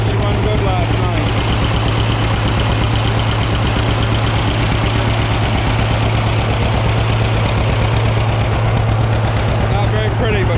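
An old John Deere tractor engine idles on a cold morning with a steady low, rhythmic chug that holds even and loud from start to finish.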